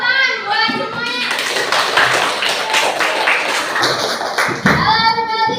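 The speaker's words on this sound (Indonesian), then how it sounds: "Tepuk tangan buat semuanya." A classroom of children claps in a dense, lively burst of quick, overlapping claps lasting several seconds, with children's voices calling out around it.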